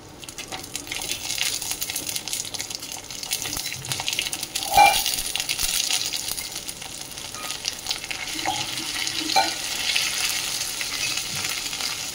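Ginger paste frying in a pan, a steady close sizzle with scraping stirs and one sharp clink partway through, alone without talk.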